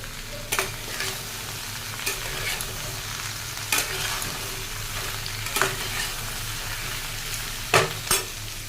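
Panch phoron whole spices frying in hot oil in a pan, with a steady sizzle while a spoon stirs, scraping the pan in sharp clicks every second or two.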